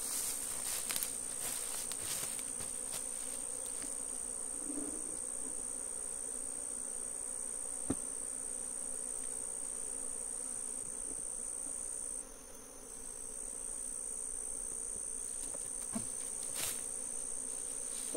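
Honeybees buzz around an open hive box in a continuous close, high-pitched drone, with occasional faint knocks and handling sounds beneath it.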